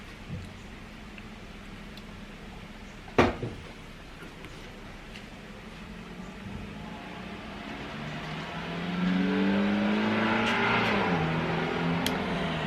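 A pickup truck drives past on a street, its engine and tire rumble swelling into a steady, fairly close roar over the last few seconds after a quiet stretch with one sharp knock.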